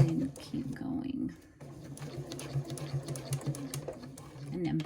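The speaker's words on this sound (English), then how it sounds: "And I'm going to go very slowly, and I'm just going to hold it, back stitch," Sewing machine stitching a zipper onto a fabric pouch at slow speed, a soft low hum running under a voice as she talks throughout.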